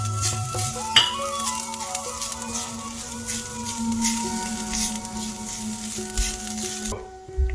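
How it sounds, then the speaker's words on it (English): Grated coconut roasts in a pan with a soft sizzle and gentle stirring scrapes, faint and continuous, with a few clinks of the utensil against the pan. "I'll add the grated coconut to this and roast it"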